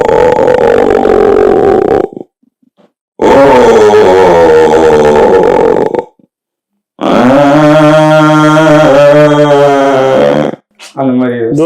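A man vocally imitates an autorickshaw engine starting, with three loud bursts of grunting, sputtering mouth noise separated by short silences, the last rising into a steady rattling idle, close to the mic with no words.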